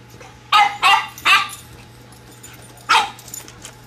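A French bulldog puppy facing a cat gives four short, sharp yapping barks. Three come in quick succession and one follows after a pause, all close by over a faint steady hum.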